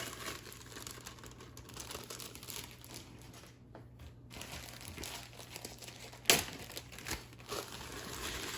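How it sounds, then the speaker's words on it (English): Bags of dirt substrate crinkle and rustle as they are opened and poured into a display enclosure, with soft plastic crumpling throughout and a sharp tear or thump partway through. "So we're going to start out with our dirt. Got 3 bags here to dump in."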